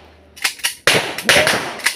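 Gunfire at a marksmanship training range: one sharp, loud shot rings out close by, with a few smaller cracks and clicks around it and no talk.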